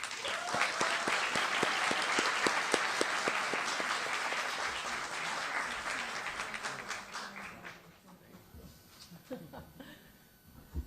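An audience applauds warmly to welcome a speaker to the stage at FIU: dense, sustained clapping from a large crowd for about eight seconds, then thinning to a few scattered claps.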